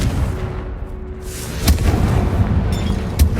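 A Bombarda or Confringo spell blast in Hogwarts Legacy lands as a deep booming explosion over a rumbling game background. A second, sharper burst follows a moment later.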